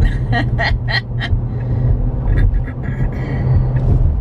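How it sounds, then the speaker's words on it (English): A big diesel vehicle accelerates hard in traffic, its low rumbling roar heard from inside a passing car, with a voice talking over the first part. "Oh, there goes a big old diesel, man. He's going crazy over there to accelerate."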